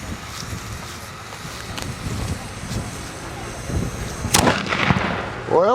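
Fireworks shells thump out of launch tubes outdoors in a few deep booms over steady wind rumble, with a sharper, louder burst near the end.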